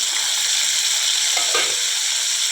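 Ginger-garlic paste fries in a pan with a steady, close hiss of sizzling oil, and a brief scrape of stirring near the middle.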